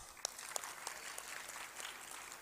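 Brief, fairly faint audience clapping at a quiz contest in a Karachi arts council hall, a soft continuous patter with a few sharper individual claps standing out.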